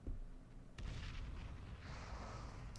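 Explosion effects in a World of Warcraft pet battle boom out as deep, rumbling blasts, one after another, with a muffled roar lingering between them and no talk.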